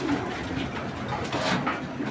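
Tiger grizzle racing pigeons coo softly at feeding time, low throaty calls repeating amid general loft bustle, fairly close but modest in level.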